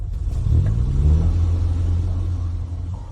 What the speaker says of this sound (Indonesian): Mobil. Itu mobil. Mereka kembali.